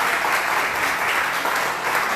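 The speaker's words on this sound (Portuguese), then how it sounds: "Você pode dar uma salva de palmas para o Senhor?" A church congregation claps together in a loud, dense, unbroken round of applause, close and steady from start to finish with no voices rising above it.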